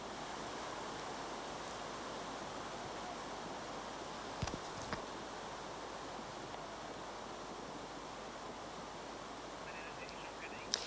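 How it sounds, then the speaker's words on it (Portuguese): Floodwater rushes through central Funchal, Madeira, during the February 2010 storm, a steady broadband roar that fills the whole stretch, with a few brief knocks of debris breaking through. "agora nesta imagem dá para ver bem a altura já da água que corre no centro do Funchal"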